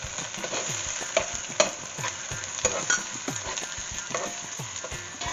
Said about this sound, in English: Go to fry these three ingredients for a little while, which is the onions, ginger garlic paste, and tomatoes